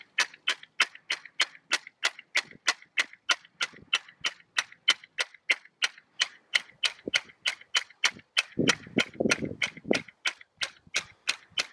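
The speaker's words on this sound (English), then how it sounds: "I'm going to bang this in the ground" A hammer strikes a spiral anchor stake into the ground in a long, steady series of sharp metallic blows, roughly three per second, with a brief low rumble near the end.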